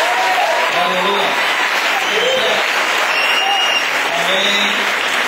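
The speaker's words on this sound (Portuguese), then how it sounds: "Vamos dar uma salva de palmas ao Senhor por isso." Applause in a church congregation, sustained dense clapping from many hands, loud and steady throughout, with voices calling out over it.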